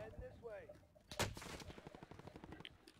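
One loud, sharp sniper shot cracks out in a shooter video game, followed by a lingering rumbling tail, with a voice briefly heard before it.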